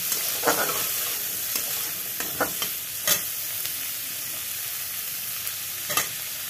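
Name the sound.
frying tomato with capsicum in a pan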